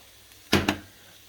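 Garlic goes into a hot pan with onion and coconut oil, giving two quick sizzling bursts that die down fast.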